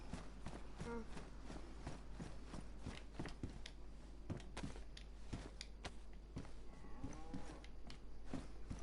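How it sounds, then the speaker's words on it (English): A cow lows in the DayZ survival game amid steady ambient game noise, with repeated sharp impact hits and footstep-like thuds throughout. "I'm hitting that cow."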